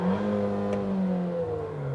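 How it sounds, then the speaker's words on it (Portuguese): A 2023 Fiat Pulse Abarth turbo engine, boosting up to 1.8 bar, revs hard and holds near the rev limiter in a loud, sustained, steady drone with no talking. "Ele vai até o corte de giro."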